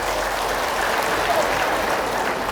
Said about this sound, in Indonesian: tepuk tangan untuk ibu-ibu BKMT